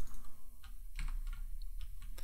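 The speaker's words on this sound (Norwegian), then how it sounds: "Jeg trykket på E, men så klikket jeg på Q." Computer keyboard keys pressed during a game of Overwatch, heard as a scattered series of sharp, moderately faint clicks over steady background noise, with no talking.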